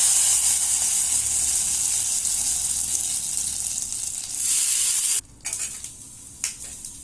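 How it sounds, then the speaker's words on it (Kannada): Mustard seeds, curry leaves and dry red chillies sizzle hard in hot ghee for a tempering, a steady close hiss that fades after about five seconds into softer crackles. "ಇದು ಒಗ್ಗರಣೆ ಹಾಕ್ತಾ ಇದ್ದೀನಿ. ಸಾಸಿವೆ, ಕರಿಬೇವಿನ ಎಲೆಗಳು ಮತ್ತೆ ಒಣಮೆಣಸಿನಕಾಯಿ."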